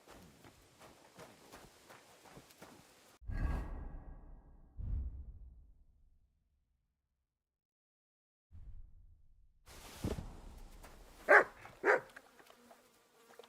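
A dog in Kingdom Come: Deliverance II gives two short, sharp barks near the end, after scattered thumps and quiet stretches in a medieval outdoor scene.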